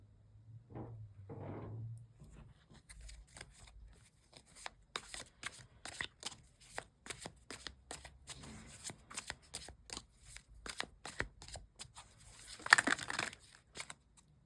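Tarot cards shuffled by hand in a long run of quick, dry riffling clicks and flutters, some cards spilling out and slapping down, with a brief low rustle early on and a louder burst near the end.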